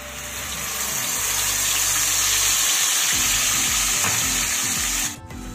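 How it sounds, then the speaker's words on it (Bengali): Water poured into oil in a pan while cooking sarson posto katla kalia, the rinse water from a mixer grinder jar of mustard, poppy seed and green chilli paste; a loud, steady hiss and sizzle that cuts off abruptly near the end. "দেখো মিক্সিটা ধুয়ে একটুখানি জল দিয়ে দিলাম।"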